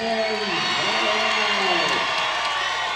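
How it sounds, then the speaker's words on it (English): Basketball crowd at a district boys' tournament game, DLB vs Berthold, cheering and whooping loudly and continuously in a gym as overtime begins after a comeback tie. "Got the crowd going right now."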